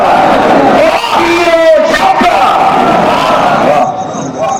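A crowd at a Muharram religious gathering shouts back loud slogans in unison, a roaring wall of massed voices with a few higher yells rising over it.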